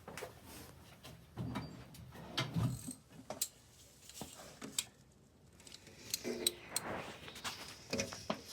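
Ratchet with a 9/16 socket loosening a bolt on a Morris Minor engine, giving faint clicking bursts and metallic clanks at close range in a quiet workshop.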